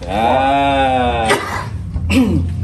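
A sharp, harsh cough bursts out after a stretch of voiced sound, followed by another rough cough-like burst, close to the microphone.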